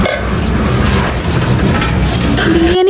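Hyderabadi chicken biryani cooks in a pot with a loud, steady sizzle and bubbling hiss that runs unbroken, ending in a brief clatter.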